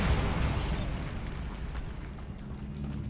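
A Bombarda explosion spell goes off in a Harry Potter video game, a heavy booming blast that hits hard at the start and rumbles on, slowly thinning over a few seconds.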